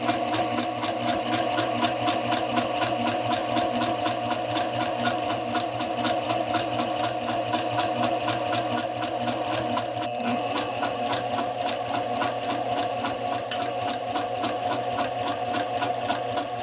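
A sewing machine stitches a slash pocket seam with back tacks, running as a fast, continuous mechanical whir and needle clatter, close and steady throughout with no talking.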